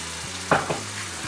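Sizzling in a hot pan as comb honey melts into fat while cooking ruffed grouse, a soft steady fry with a brief stir or clatter in the middle, close and with no talking.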